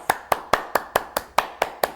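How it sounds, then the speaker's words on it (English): Ten sharp hand claps in a steady, even rhythm, close and crisp, with no voices. "And then clap your hands."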